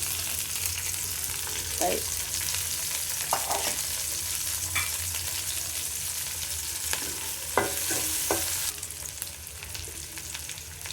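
Green chilies and onion sizzling and frying in hot oil, a steady crackling sizzle throughout with occasional stirring scrapes, close and moderately loud.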